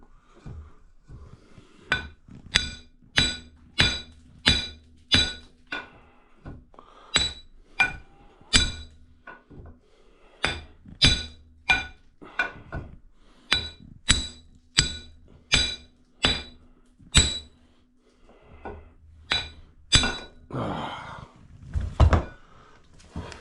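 Repeated hammer blows ring out against metal while working a stuck part free on a zombie apocalypse bike build, about two dozen sharp clanging strikes in uneven bursts, close and loud with short pauses between groups.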